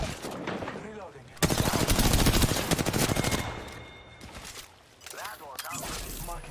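Automatic weapons rattle in Apex Legends, with one dense burst of rapid shots that fades away, then lighter fire later, while voices talk before and after the shooting.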